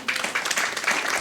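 Audience applause at a budget talk, a brief, dense patter of many hands clapping at once, fairly loud and steady for about a second.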